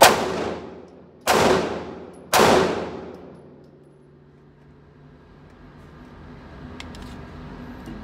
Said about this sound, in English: shoot using my left hand, which is in this case my weak hand